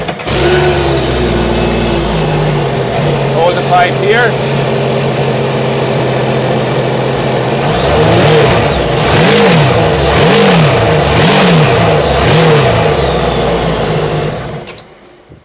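Supercharged jet ski engine idling steadily, then revved in several rising and falling bursts before cutting off; a voice speaks briefly early on.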